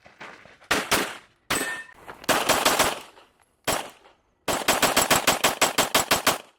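An ALIEN pistol fires in loud, close bursts of rapid shots separated by short silences, ending in a long rapid string of about ten evenly spaced reports.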